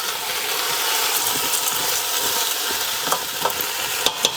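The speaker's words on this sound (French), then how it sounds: "Je brasse le tout ensemble." Potatoes and green lentils are stirred together in a cooking pot for a lentil and potato stew. A steady close hiss runs throughout, with a few sharper scraping knocks near the end.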